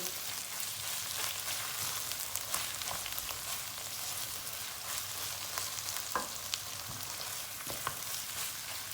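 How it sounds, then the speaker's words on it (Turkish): Tomato paste frying in a pan, a continuous soft sizzle with occasional clicks and scrapes from stirring, fairly quiet and close, no voices. "Salçayı da iyice kavuracağız içinde"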